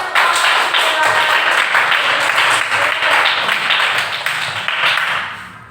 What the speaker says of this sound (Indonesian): Yuk tepuk tangan.